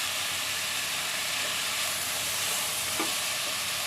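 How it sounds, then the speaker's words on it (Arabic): Onion with garlic frying in a pan, a steady broadband sizzle held evenly throughout at close range, with no voices. "غنخليها تبقى تحمر مع التويمه حتى تعطي داك اللوغو ديالها"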